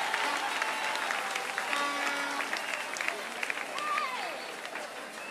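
An audience applauds with steady clapping and crowd noise, with a voice talking over it and faint whistles or calls rising above the clapping.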